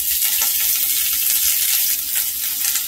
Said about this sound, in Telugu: ఆయిల్ బాగా వేడి ఎక్కాలన్నమాట, అప్పుడే తాలింపు అనేది బాగుంటుంది. సో ఫస్ట్ అల్లం వేసాను.